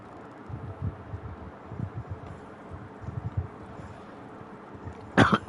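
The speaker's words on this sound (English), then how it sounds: "I love smoker's cough." A Hogwarts Legacy game character lets out a harsh smoker's cough, one short raspy burst near the end after a stretch of low, murmuring ambient rumble.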